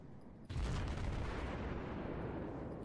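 Naval gunfire aimed at the cruiser Königsberg in World of Warships, a single deep sudden boom followed by a sustained rumbling roar that fades slowly, with no talk.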